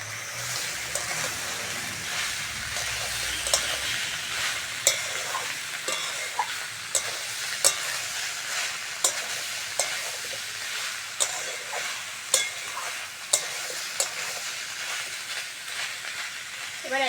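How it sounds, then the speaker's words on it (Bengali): Young banana stem stirs and fries in a pan with a continuous bright sizzling hiss, punctuated by regular sharp taps and scrapes of a spatula, while a voice speaks softly underneath. "থোড়টা দিয়ে হালকা করে নেড়ে চেড়ে নিয়েছি"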